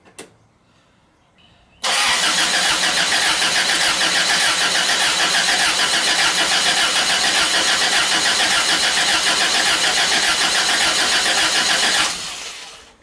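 A rebuilt Toyota Hilux drift truck cranks briefly and then fires up into a loud, steady running engine. The engine holds for about ten seconds before cutting off, and no one speaks over it.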